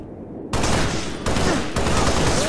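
Gunfire in Halo Reach: after a quieter start, bursts of loud rapid weapon fire kick in, three dense volleys in quick succession with short breaks between them.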